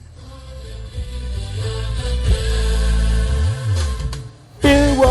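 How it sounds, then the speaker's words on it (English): Music plays through the Harman Kardon audio system in a BMW 3 Series, heavy thumping bass with layered tones filling the cabin, getting louder toward the end with a brighter burst. "Speaking of the radio, you do have a thumping audio system that sounds like this."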